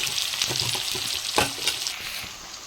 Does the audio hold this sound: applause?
no